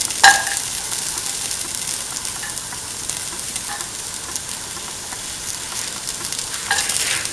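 Garlic sizzles steadily in a hot pan for an Indian ivy gourd tamarind stew, with a continuous close frying hiss and occasional stirring scrapes, no talk.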